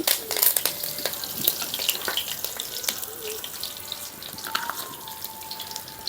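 Coriander seeds and curry leaves fry in hot oil, a close crackling sizzle with sharp spattering pops and some clatter, loudest in the first moments and then settling.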